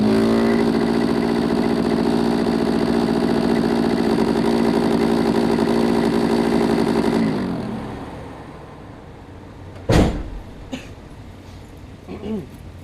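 A 1988 Camaro RS engine runs with a steady, loud idle drone, suspected of bad bearings, then shuts off and fades, leaving a few brief knocks and faint sounds.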